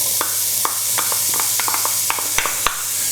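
Onions fry in hot vegetable oil for a spicy vegetable and lentil one-pot casserole, a bright hissing sizzle under a run of quick spoon taps and scrapes against the pan, close and steady, with no one talking.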